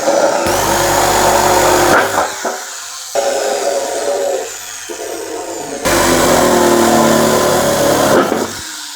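An electric drill bores through a panel sheet for a washing machine wiring setup in loud, close bursts, whining at full speed, stopping briefly, then spinning up again for another hole.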